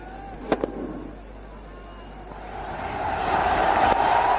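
Cricket crowd at an India vs South Africa one-day international in Faridabad, swelling into a broad, rising roar of cheering after a couple of sharp early knocks, growing louder toward the end.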